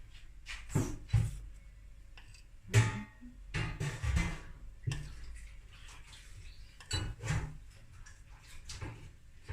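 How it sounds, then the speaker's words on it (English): Dishes being washed up by hand, with intermittent clinks and clatters of crockery and cutlery, soft splashes of water and occasional quiet knocks, close by in a home kitchen. "Now Shelly's just washing up quickly, helping me."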